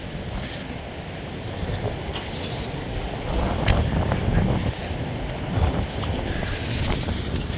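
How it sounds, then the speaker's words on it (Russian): Strong southern wind roars along the seashore during a late-November storm at Arkhipo-Osipovka, steady and broad with gusts swelling midway, likely mixed with surf rushing in the background and no talking. "Все летит со стороны моря, потому что ветер южный."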